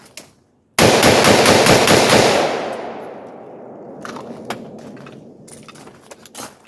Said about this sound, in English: let's do a mag dump up here,